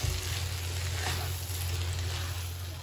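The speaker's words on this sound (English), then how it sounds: "add this in and mix it well until the paste is well mixed with the rice vermicelli" Rice vermicelli (bihun) stir-fried and mixed with paste for mee siam, giving a steady low sizzle and soft frying hiss beneath a constant low hum.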